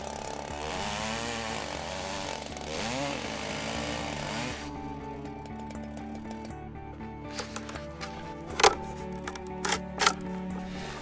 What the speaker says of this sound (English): try and still cut out with a chainsaw